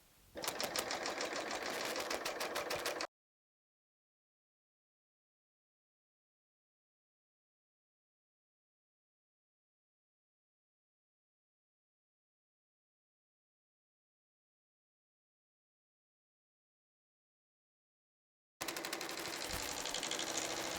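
A serger sewing machine runs in a loud, steady mechanical whir as it trims the whiskery fabric edge of a placemat, with a short burst at the start and another at the end, separated by a long stretch of silence.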